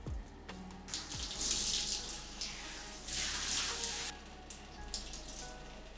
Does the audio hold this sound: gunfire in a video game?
no